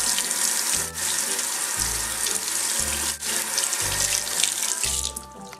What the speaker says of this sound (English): So now you want to rinse your brushes.